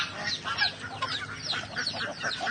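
Black Australorp chickens under a farmhouse cluck and chatter close by, a busy overlapping run of short calls from several birds.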